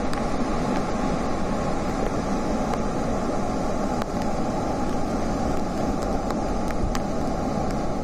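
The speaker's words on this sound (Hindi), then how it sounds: "उफनती नदियां" A swollen, flooding river rushes in a steady, loud roar of broadband water noise that stays constant throughout, with no voices.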